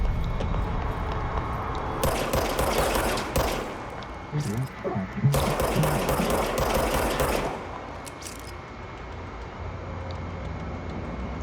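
Automatic gunfire from the video game Control, two long sustained bursts of rapid shots separated by a short pause, loud and close, with a voice talking over parts of it.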